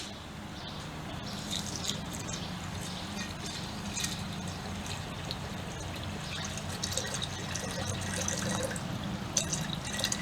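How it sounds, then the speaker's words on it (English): Vinegar pours steadily over eggshells for several seconds with a soft splashing, trickling texture, close and continuous with no talking. "So I'm gonna pour the vinegar now."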